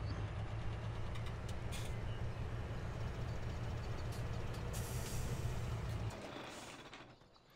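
In the Farming Simulator 17 video game, a truck's air brakes give a long steady hiss over a low engine hum that runs loud for several seconds, then fades away toward the end.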